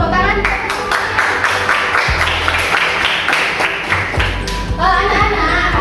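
A classroom of students breaks into applause, a dense and fairly loud run of clapping that lasts for several seconds with some thumps mixed in.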